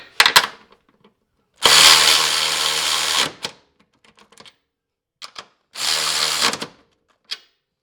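A Durofix G12 12V cordless extended ratchet runs a bolt back on in two motor bursts, a longer whirring run then a shorter one, loud and close, separated by small clicks and handling noise.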